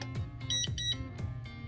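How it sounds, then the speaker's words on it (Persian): An Amazon Basics safe gives short electronic beeps, a pair of high tones marking each step as its keypad is used, close and clear above low background hum. "چراغ سبز اینجا دوبار بیپ کرد"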